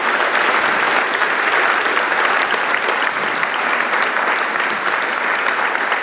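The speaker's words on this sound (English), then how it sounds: "let's give him a round of applause" Thick, steady applause from an audience at a conference keynote, loud and sustained with no break or voices.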